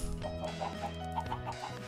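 Minecraft chickens cluck softly in a series of short, pecking notes over a steady low background hum, quiet and fairly close, with no talk.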